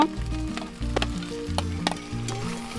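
Jackfruit and potatoes frying in a pan, a steady close sizzle with occasional sharp crackles and brief clatter of stirring, no talk.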